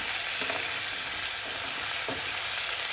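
Chopped onions frying on a slow flame for an Indian-style potato and green bean sabzi, a steady close sizzle with a few soft stirring scrapes, no voices.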